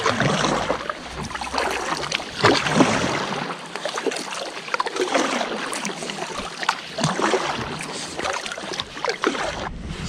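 A kayak glides over open sea off Stonehaven in North East Scotland during a mackerel fishing trip, with steady close water wash and splashing against the hull and a few sharper slaps, with no talking.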